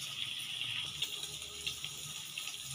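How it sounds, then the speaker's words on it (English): Half a cup of water pours into pork adobo with camote tops, a soft continuous trickle with light splashes, close and fairly quiet, with no talk. "you need to put 1/2 cup of water to make the meat tender"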